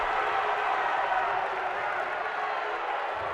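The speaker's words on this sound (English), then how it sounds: "And not a happy crowd here in Troy at that call" Basketball crowd in an RPI gym in Troy groans and murmurs unhappily after a charging foul call, a steady wash of many voices sustained throughout, loud and unbroken.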